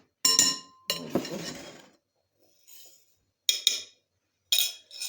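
A spoon clinks and scrapes against a bowl while keto dough with white sesame, flax, baking powder and an egg is mixed, in separated sharp, close taps.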